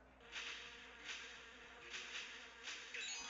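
Buzzing of bees in a video game level, several short droning swells rising and fading in a loose rhythm, faint and close.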